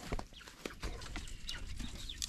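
Chickens at feeding time on a rural province farm, with soft clucks and pecking, scratching noises close by, busy and irregular against quiet outdoor background.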